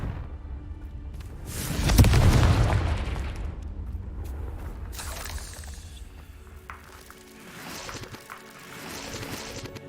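A Confringo blasting curse from Hogwarts Legacy erupts in a loud broadband burst near the two-second mark, then trails off into a rumbling, crackling decay beneath later lower-level game noise.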